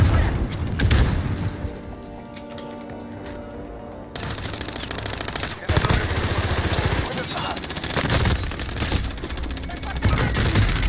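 Heavy automatic gunfire and booming blasts in a video game shooter, loud sustained bursts and sharp impacts close by, with people talking excitedly over the shooting.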